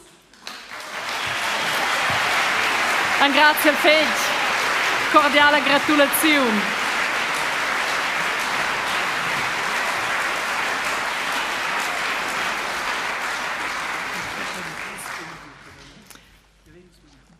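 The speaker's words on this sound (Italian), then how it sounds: "E una gada in grande applaus" Audience applause at a Romansh song festival, a sustained broad wash of clapping lasting over ten seconds before fading, with a host speaking over the start.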